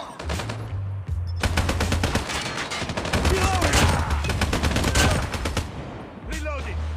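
Rapid, sustained bursts of Man O War rifle fire in Call of Duty Mobile ranked play, loud and dense for most of the stretch with brief pauses and game effects between volleys.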